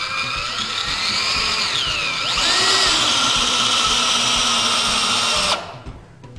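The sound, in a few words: drill driving a GRK Kameleon composite deck screw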